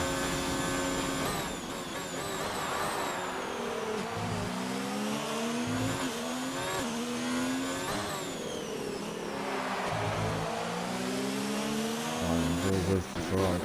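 A Ferrari race car in a sim racing video game, its engine howling loud and close, revving up through the gears with repeated sharp shifts and climbing pitch, alone without talk.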